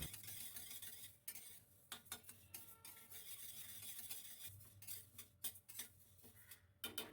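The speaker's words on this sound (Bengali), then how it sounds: "মুগ ডাল ভাজা হয়ে গেছে," Moong dal fries dry in a pan while a spatula stirs it, producing quiet scraping and clinking strokes at an irregular pace with a faint sizzle beneath, close by and without talk.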